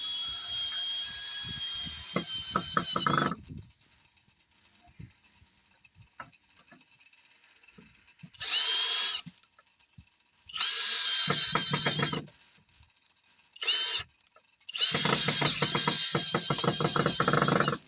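A power drill drives screws in several loud whirring bursts, each a second to a few seconds long and separated by quiet pauses, with the longest runs at the start and end.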